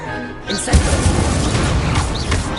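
A fire spell cast in a Harry Potter video game bursts with a crackling, whooshing roar that swells after a brief lead-in and rumbles on through the whole moment, with game effects and faint voice underneath.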